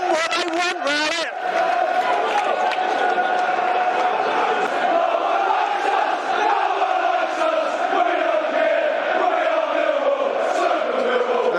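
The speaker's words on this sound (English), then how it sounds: "Crowd responding." Football crowd roaring at a Millwall home match against Leicester City, a loud sustained surge of massed voices and chanting that swells throughout, with commentary talk layered over it.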